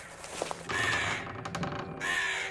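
A crow caws in several harsh, drawn-out calls, loud and close, with short pauses between them.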